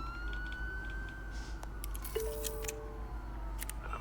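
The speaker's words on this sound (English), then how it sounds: "There are quite a few police cars convening on your location." Police car sirens in a Batman Telltale game scene wail with sweeping tones over a steady low hum, joined by brief clinks and a second siren tone partway through, moderately loud and continuous.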